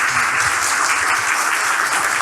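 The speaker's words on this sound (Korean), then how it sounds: "좋은 강연 해주시고 또 이렇게 답변까지 잘 해주신 관장님께 박수 한번 보내드립니다" An audience at a university lecture applauds the speaker, a dense, loud wash of many hands clapping continuously from start to end.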